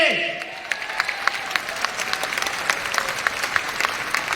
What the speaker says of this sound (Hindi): एक बार जोरदार ताली बजना चाहिए।